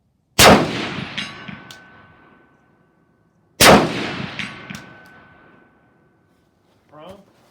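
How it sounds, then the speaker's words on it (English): Two rifle shots fired from a sitting position on a range, each a loud boom with a ringing clang from the steel target and a lingering echo, spaced about three seconds apart, with a brief voice at the end. "2 rounds on steel."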